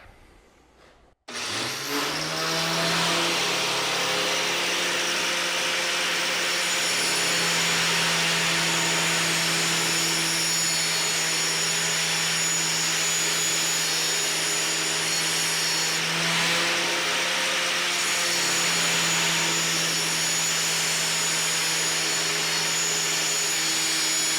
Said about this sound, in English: I've never actually used an angle grinder before to sharpen a drill